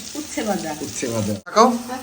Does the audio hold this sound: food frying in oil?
yes